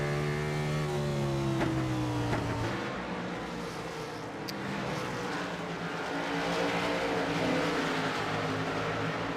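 Race car engine at full throttle in the iRacing simulator at North Wilkesboro, a loud steady roar with falling pitch sweeps as it runs hard downhill into a corner, continuous and close throughout.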